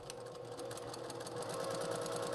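A sewing machine stitches through quilt strips with a fast, even mechanical chatter, running continuously and close with no talk.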